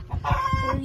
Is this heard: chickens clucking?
yes